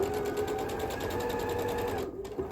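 A sewing machine runs steadily as it stitches a quarter-inch seam on a flying geese quilt block, a close, even mechanical whir that stops briefly near the end.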